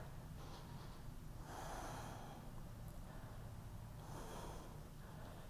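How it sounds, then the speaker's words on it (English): Slow, deep breathing during a Katonah yoga practice, two long audible breaths in and out through the nose, faint and close over a low steady background hum. "And breathe"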